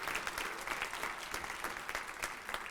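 Audience applause at a human rights awards ceremony, a steady round of clapping from a crowd that holds even throughout, fairly soft and distant.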